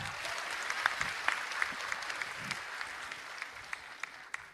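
Steady applause from an audience, a sustained patter of many hands clapping at moderate distance, with a few sharper individual claps standing out.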